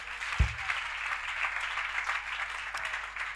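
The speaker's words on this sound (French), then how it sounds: "Il faut acclamer fortement" Church congregation applauding loudly, sustained clapping from a crowd that continues steadily throughout, with a brief thump near the start.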